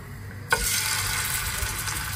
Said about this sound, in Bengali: চিংড়ি মাছগুলো সব দিয়ে দিচ্ছি। এখন এগুলো ভালো করে একটু ফ্রাই করে নেবো।